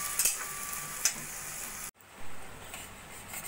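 Onions for an egg and masoor dal dish sauté in a pan with a little added water, a loud bubbling hiss that drops abruptly midway and then resumes softer and steadier.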